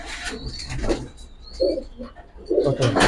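Giribaz pigeons in a rooftop loft coo in several soft, throaty bursts close by, with low background murmuring between the calls.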